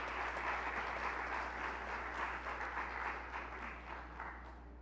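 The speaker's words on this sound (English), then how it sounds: "another round of applause for our orator" Audience at a business school hooding and recognition ceremony applauding the orator, a steady wash of many hands clapping in a large room, sustained and moderately distant, fading slightly at the end.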